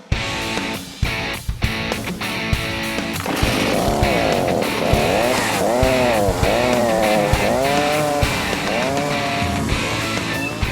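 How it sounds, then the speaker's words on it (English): A carving chainsaw with a narrow-tip bar cutting the center out of a wooden bowl in one piece, its engine droning steadily and rising and falling in pitch as the blade works through the wood, loud and close. "I bought this special chainsaw that I can actually cut the entire center out in one piece"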